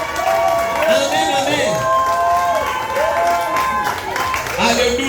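A church congregation at a New Year's Eve vigil applauds and cheers loudly, steady clapping under excited voices and sung or shouted wavering tones rising and falling throughout.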